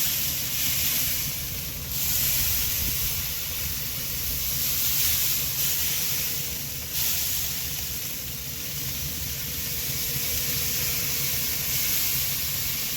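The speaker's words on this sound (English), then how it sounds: "Now I'm gonna come back over it again with another spritz," A spray bottle lightly spritzing a smoked brisket as it nears 170 degrees, heard as a few soft hissing bursts over a steady, broad background hiss, with no voices.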